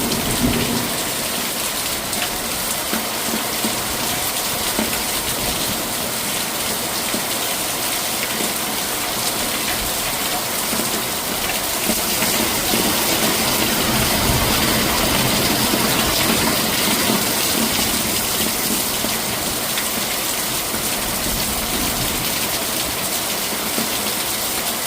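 Heavy rain falls steadily on surfaces in Nathdwara, a dense continuous hiss with gushing water, loud and unbroken for the whole stretch, with faint low rumbles of thunder in the background.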